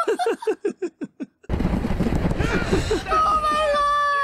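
A big practical-effects explosion in the 2008 war comedy film Tropic Thunder: rapid rhythmic bursts like gunfire give way to a sudden loud blast and a sustained roaring rumble, with voices underneath.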